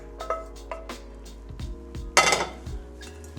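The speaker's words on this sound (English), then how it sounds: "And then I put it through the colander." Cooked mushrooms and vegetables tip through a colander into a bowl, with scattered clinks of metal and dishware, then a short, louder rush of wet food and liquid sliding through, close by.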